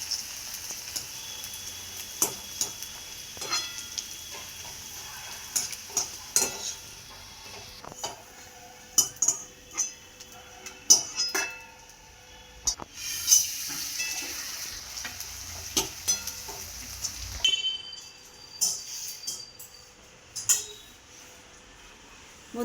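Papad being fried in oil in a pan, with intermittent crackles and sizzling bursts, scraping and clattering of utensils, and a soft background hiss, close and irregular without any talk.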